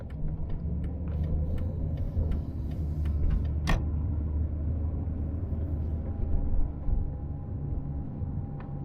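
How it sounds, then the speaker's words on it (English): A 4-litre V8 Ford Fairmont AU driving on the road behind another car, a steady low engine rumble and road roar throughout, with a brief sharp click midway and no talking. "I'm sure there will be some very pleasant V8 noises."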